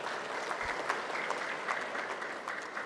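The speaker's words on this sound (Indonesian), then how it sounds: "Tepuk tangan kita semuanya." Steady, even applause from a crowd at an inauguration ceremony for five professors, clapping continuously at moderate volume for the whole stretch with no voices over it.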